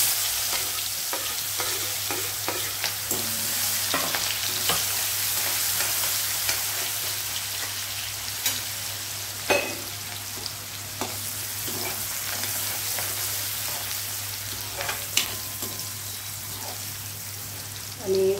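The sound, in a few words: onion frying in pan with asafoetida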